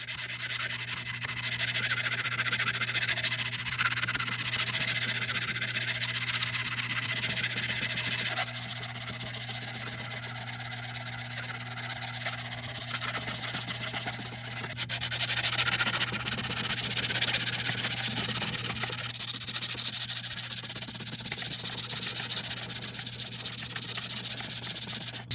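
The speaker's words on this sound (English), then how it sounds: "further clean up and refine this blade using a few different grits of sandpaper" A knife blade made from shop scraps is hand sanded with sandpaper of several grits, giving continuous rasping strokes that run steadily over a low background hum.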